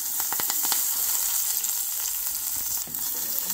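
Curry leaves hit hot oil in a pan on low-medium heat, where pepper is already frying, giving a steady, bright sizzle with a few sharp crackles and pops at close range.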